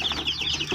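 Newly hatched chicks peep in quick, high repeated chirps, several close together in a rapid rippling pattern over a brief moment.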